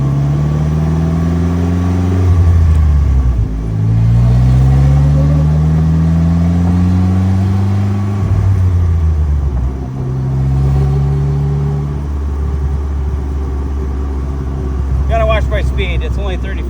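A 2015 Slingshot SL accelerates down a road, its engine rising in pitch through each gear then dropping at each shift, loud and close with steady road and wind noise.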